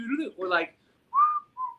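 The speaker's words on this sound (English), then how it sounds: "Whistling on deck." A person whistles two short rising notes, close and clear, right after someone speaks briefly, in a conversation about shipboard superstitions on cruise ships.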